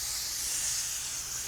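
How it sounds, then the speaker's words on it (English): Water sprays in a steady, close hiss while an air conditioning unit is being cleaned, a smooth continuous rush with no talk over it. "you can see water spraying through there."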